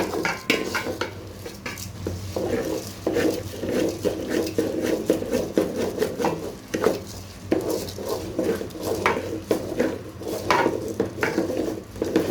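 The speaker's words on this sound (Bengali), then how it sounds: "এখন এই চালগুলোকে মশলার সাথে খুব ভালো করে আমি মিক্স করে নিচ্ছি।" Rice being stirred into spices in a pot for bhuna khichuri, with a steady, repeated scraping of a utensil against the pot over a faint sizzle, close by.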